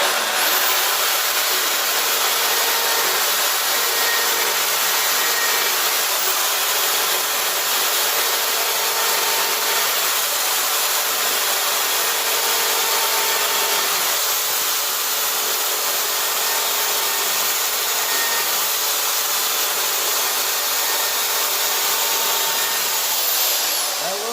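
Chainsaw carving feathers on a wooden owl, the saw held upright and cutting from back to front, giving a continuous loud buzzing, rasping drone that stays steady throughout without talk.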